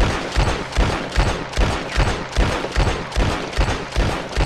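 LeMat revolver from the video game Red Dead Redemption 2 firing twelve rounds in rapid, steady succession, each shot a loud, punchy report following closely on the last, with no talk over it.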